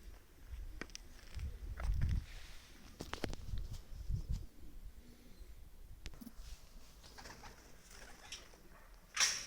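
Adana pigeons, a young blue bird and a two-year-old, give soft low coos with some shuffling and fluttering, plus a brief sharper call near the end, heard close by with no talk.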